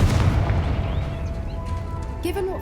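A Confringo blasting spell from the Hogwarts Legacy video game erupts in a loud, booming explosion with a low rumbling tail, then fades into steady game ambience with a faint tonal hum.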